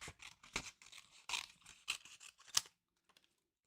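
Scissors fussy cutting paper leaves and a stalk from a birthday craft kit, heard as a string of close, crisp snips and rustles in uneven bursts, ending in near silence.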